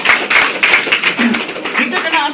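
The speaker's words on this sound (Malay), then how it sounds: "bagi satu tepukan" Scattered hand clapping from an audience at a business seminar, a few uneven claps close together, with a voice talking over them.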